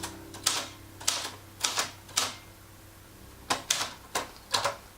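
A manual typewriter types a serial number: about ten crisp, loud key strikes come in uneven clusters, with a faint steady hum underneath and no voices.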